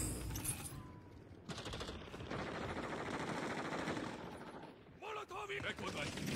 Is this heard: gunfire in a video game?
yes